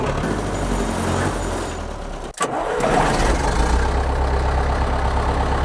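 A tractor engine cranks and catches after a brief stutter, then settles into a loud, steady rumbling idle close by.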